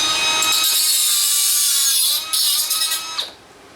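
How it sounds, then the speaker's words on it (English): A 20,000 RPM cordless cutoff tool with a metal cutoff blade grinds through threaded rod, a loud close high-pitched whine with scraping bursts that winds down near the end. "So it's got the metal cutoff blade on it."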